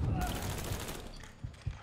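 Gunfire in the video game Mafia 3, a rapid burst of shots at the start that trails off, followed by two sharp isolated gunshots near the end, loud and close with no talk.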